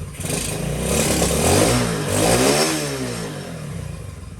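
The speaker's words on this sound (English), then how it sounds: "Warm up, baby" A Honda CT70 motorcycle fitted with a Lifan 125 engine warms up nearby, its idle rising and falling with throttle blips in a steady, rattly mid-pitched drone.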